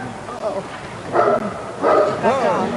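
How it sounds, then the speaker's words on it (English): The Irish president's dog barks several times beside Joe Biden, short yelping bursts spaced across the moment, close and fairly loud against a busy background. "The dog of the Irish president barks at the side of Sleepy Joe Biden."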